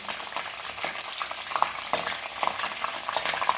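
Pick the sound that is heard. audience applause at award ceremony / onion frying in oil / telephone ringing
onion frying in oil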